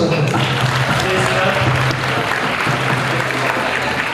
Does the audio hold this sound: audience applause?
yes